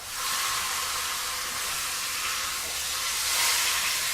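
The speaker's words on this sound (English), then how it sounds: "We're going to sear up the sides" Meat searing in hot oil over a high flame, a steady loud hiss of sizzling that holds evenly throughout with no voices.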